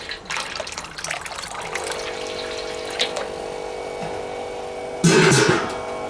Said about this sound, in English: if I turn the pump on, you can see there's the liquid flowing